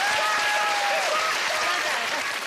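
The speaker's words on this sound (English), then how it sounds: "Give her a round of applause" A studio audience on a British game show claps steadily in one continuous burst of applause, close and even throughout.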